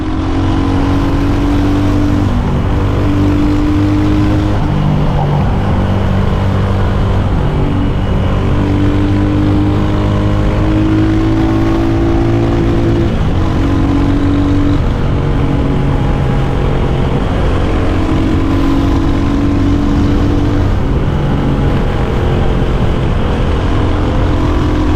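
A 2023 Royal Enfield Hunter 350 motorcycle's single-cylinder 350 engine is ridden and revved, its note climbing repeatedly in steady pitch sweeps, loud and continuous for the whole stretch without talk.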